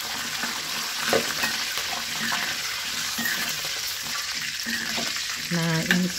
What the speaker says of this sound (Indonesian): Selanjutnya kita goreng daun jeruknya.